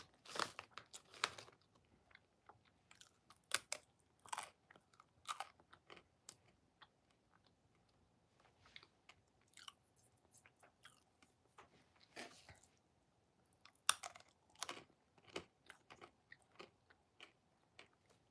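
Crunchy pretzels being chewed close to the mic, giving sharp, irregular crunching bursts in clusters separated by short quiet gaps, with no talking.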